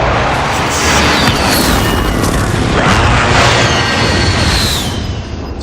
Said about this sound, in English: Be advised, friendly like, precision chronically, airstrike inbound